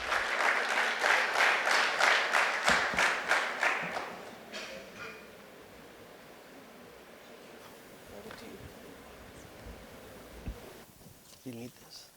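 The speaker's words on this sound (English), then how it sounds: "let us hear with a big round of applause and welcome Mr." An audience breaks into a burst of applause to welcome a speaker at a business talk, dense clapping for about four seconds that fades into quiet room tone, followed by faint voices and a microphone shuffle.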